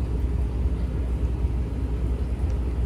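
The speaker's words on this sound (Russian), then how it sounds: "Итак, утро, третью ночь подряд уже идет дождь." Steady rain falls at night around a ship at sea during cargo unloading, a continuous dense wash of noise with a low rumble underneath and no voices.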